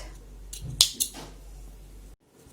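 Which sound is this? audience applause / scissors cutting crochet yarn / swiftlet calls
scissors cutting crochet yarn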